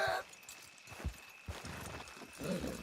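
Several hoof clops of horses in the video game Red Dead Redemption 2, at an uneven pace, moderately close, with soft shuffling and background noise between them; no talk.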